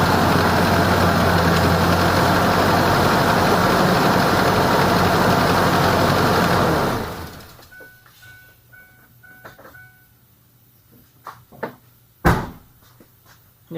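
A 2003 Ford Ranger engine runs with a fresh serpentine belt, a loud, steady idle for about seven seconds, then it drops away to near quiet with a few faint clicks and knocks.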